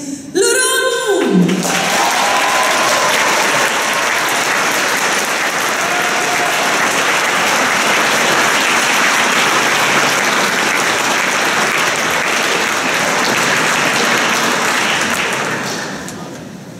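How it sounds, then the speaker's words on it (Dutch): Sustained audience applause for a violinist at a competition final, loud and even for about fifteen seconds before fading out, after a brief rising tone at the start. "Dan wil ik een groot applaus"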